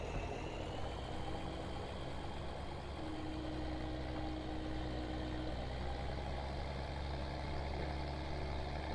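A tractor engine idles steadily in a Farming Simulator field, a continuous low mechanical rumble with a faint tonal hum, loud and unbroken throughout with no talk.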